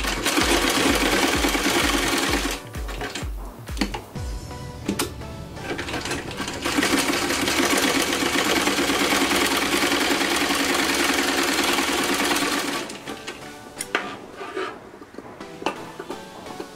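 A sewing machine stitches a multicolour blouse in fast bursts, with a rapid rhythmic clatter that starts and stops and then runs steadily for several seconds before fading into handling noises, close and loud.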